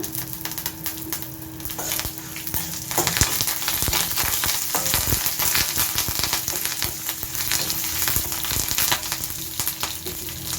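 Fresh curry leaves crackle and sizzle in hot oil while being tempered for curd rice, a steady, dense frying hiss with sharp pops and spits that grows busier after the first few seconds, with no talking.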